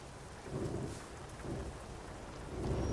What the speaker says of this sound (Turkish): Yağmur mu ya Evet yağmur yağıyordu